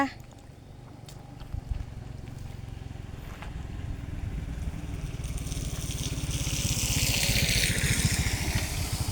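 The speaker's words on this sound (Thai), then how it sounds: "มอเตอร์ไซค์ก็ยังฝ่าไปอยู่นะ" Motorcycles push through flood water on a flooded village street, a steady engine drone mixed with churning, splashing water that swells louder toward the end.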